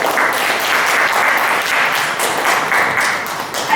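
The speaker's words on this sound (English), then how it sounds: "A big round of applause to all the teams who have participated." Audience applause for the competition teams at a school quiz fest, a dense, steady wash of many hands clapping at full volume throughout, with no talk over it.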